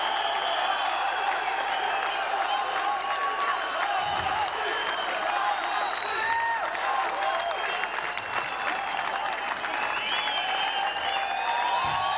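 Steady, dense applause from a live audience at a comedy stage show, sustained and fairly loud throughout with crowd noise mixed in.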